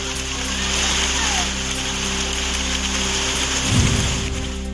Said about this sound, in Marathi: पुणे जिल्ह्यातील खेड, आंबेगाव, जुन्नर, शिरूरमध्ये मोठा वादळी वाऱ्यासह पाऊस.